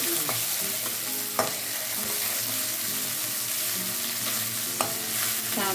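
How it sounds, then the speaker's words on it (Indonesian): Large red chilies stir-frying in a wok with a little oil, a steady close sizzle broken by scraping stirs and a few sharp utensil clicks, with no voices. "Terus kita tumis cabai merah besarnya."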